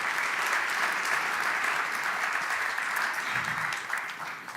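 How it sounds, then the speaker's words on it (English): Sustained audience applause fills a startup conference stage after a round of founder pitches, steady and dense clapping from a sizeable crowd that tapers slightly near the end. "Let's give a round of applause."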